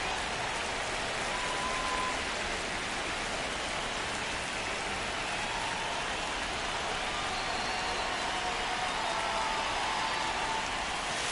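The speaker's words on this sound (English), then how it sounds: "the field's not going to be able to hold up if the rain gets any worse than this" Steady rain falls on a baseball field during an A's at Yankees game, a continuous even hiss of drops spread wide and moderately loud, with no talk over it.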